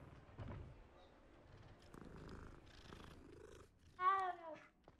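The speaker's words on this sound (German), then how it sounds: "Jede Katze muss gestreichelt werden." Cat being petted in the video game Hogwarts Legacy, a soft, low purring rumble at first, then a short, clear meow near the end, close and fairly quiet.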